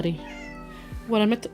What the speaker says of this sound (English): That's my Beans, if you hear the meowing.